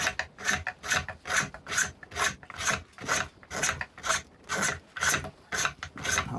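A carver's hook whittling a wood surface in repeated rasping strokes, about fourteen close, crisp scrapes in a steady back-and-forth rhythm with short pauses between them.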